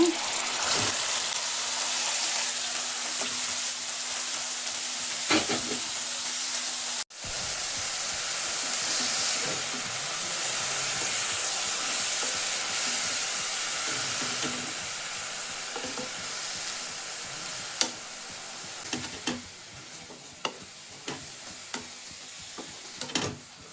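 Vegetable palya stir-fry sizzling in a pan while being stirred, a steady broadband hiss with scattered scraping clicks toward the end, close and continuous without speech.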